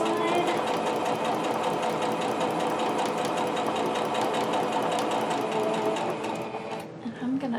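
A sewing machine stitches a quarter-inch seam on quilt block pieces, producing a continuous close rapid mechanical hum and clatter for nearly the whole clip before stopping near the end.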